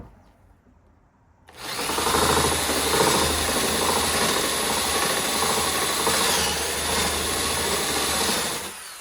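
A power drill with a Forstner bit boring into cabinet wood, kicking in after a quiet moment and running as a loud, steady grinding whir for several seconds before stopping.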